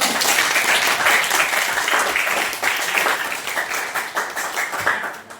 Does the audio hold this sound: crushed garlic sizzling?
no